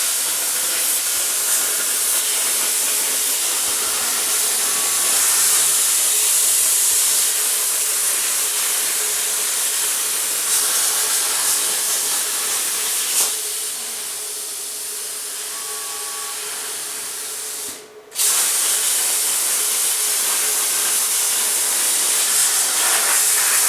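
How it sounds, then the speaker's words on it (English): A plasma cutter slices 18 gauge sheet metal for a custom GTO hood scoop with a steady, loud hiss that runs on and on, cutting out briefly before resuming. "Let's go over to the plasma cutter and go ahead and cut both these pieces out"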